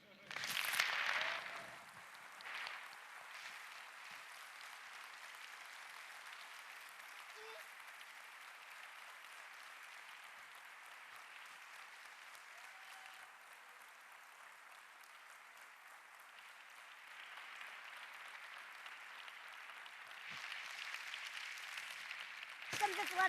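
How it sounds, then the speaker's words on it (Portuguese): Audience applause at the opening session of a 2016 congress, a long stretch of distant, fairly faint clapping that starts with a louder burst, settles into a steady wash and swells again near the end. "eu sei que vocês me vão aplaudir a mim."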